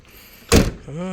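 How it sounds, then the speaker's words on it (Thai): A Toyota Mighty X pickup door slammed shut, one loud close thud after a quiet moment, followed by a faint resonant hum. "ประตูปิดสนิทเลยนะครับ"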